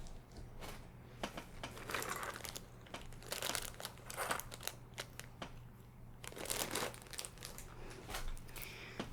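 Cat claw trimmers used as scissors to cut hair, giving close, crisp snips and crinkly crunches in an irregular series, with a faint steady hum behind.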